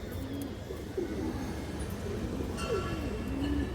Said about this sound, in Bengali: পাল্লা লাইনের হাই কোয়ালিটির বাঘা কবুতর